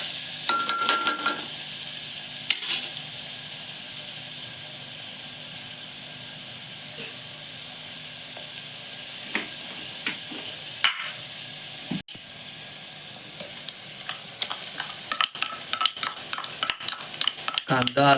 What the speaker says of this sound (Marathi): आता कांदा चांगला परतून घ्यायचा.